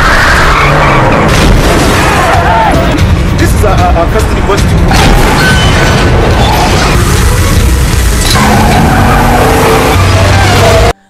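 Tires skid and squeal as cars swerve in a film chase, one car forcing another off balance until it crashes; loud, dense engine and screech noise throughout, with brief speech and a dramatic score underneath.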